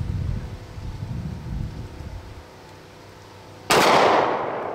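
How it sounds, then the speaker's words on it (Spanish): A Colt 1911 .45 caliber pistol fires once, close and loud, and the sharp crack is followed by a decaying tail. Before it there are seconds of outdoor wind and rustling. "Ahora sí, ya le voy a disparar antes que se vaya a caer."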